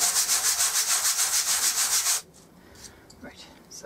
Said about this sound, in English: I'm just going to run them over some sandpaper just to take the rough edge off.